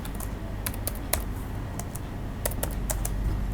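Typing on a computer keyboard to enter test text into a database, heard as quick, irregular clusters of close, crisp key clicks with brief pauses between bursts and no talk.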